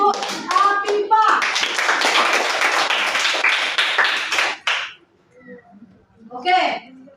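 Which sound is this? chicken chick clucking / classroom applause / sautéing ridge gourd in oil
classroom applause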